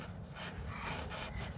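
A screwdriver bit drives a screw on a crash-damaged Honda CR-V under repair, giving a short, steady grinding rasp close by with no talk.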